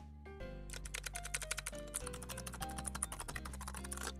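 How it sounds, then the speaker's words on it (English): Fast typing on a clicky, loud mechanical keyboard decorated with an Animal Crossing leaf, a close, dense run of sharp key clacks after a brief start, continuing steadily to the end with no voices. "I think she would be slaughtered if she brought a clicky, loud keyboard into work"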